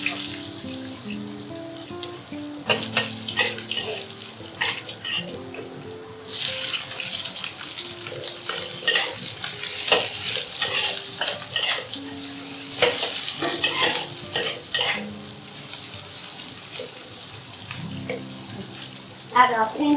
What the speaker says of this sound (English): Now add the pork fat to saute the garlic and the green peppers.